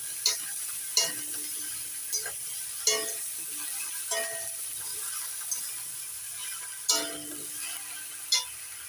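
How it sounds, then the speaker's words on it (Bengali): Chunks of shola kochu (taro) frying in a pan are stirred with a metal spatula, producing a string of sharp clinks and scrapes every second or so over a constant, gentle sizzle. "কচুটা একটু নাড়াচাড়া করে নিচ্ছি"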